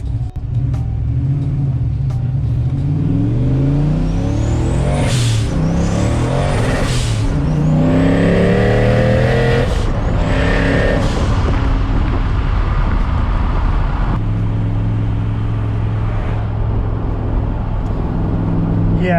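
A turbocharged Foxbody Mustang launches hard, its engine roaring loud and close as revs surge and bog repeatedly while the tires struggle for grip, with turbo whistle over the rumble and a faint voice.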